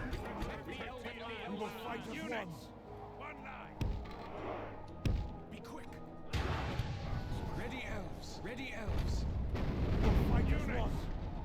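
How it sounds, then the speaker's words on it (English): In the Third Age: Total War strategy game, catapults fire during a battle, giving several heavy thumps and crashing impacts among battle noise while someone talks over it. "Catapult can start firing."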